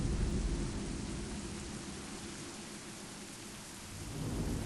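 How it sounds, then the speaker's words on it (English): Steady heavy rain hisses with deep rolling thunder rumbling underneath during a rainy mountain summit in the racing game The Crew, loud and continuous. "But this is a rainy summit."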